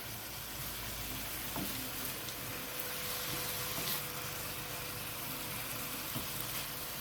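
Karela, bitter melon, cooking with dried shrimp in a pan, a steady soft sizzle and hiss of frying that carries on evenly throughout, with faint occasional scrapes from stirring.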